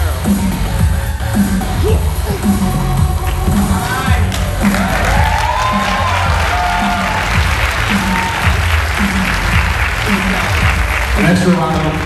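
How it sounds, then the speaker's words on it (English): An audience applauds at a black belt graduation ceremony, steady dense clapping from a crowd that continues throughout at a fairly loud, even level. "An extra round of applause for our resident newbie, Mr. Cummins."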